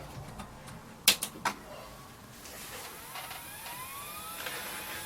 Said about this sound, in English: We have that glorious hard drive sound.